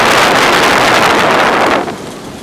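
Loud, steady wind on a sailboat in the Sir Francis Drake Channel, British Virgin Islands, buffets the microphone in strong gusts, easing slightly toward the end.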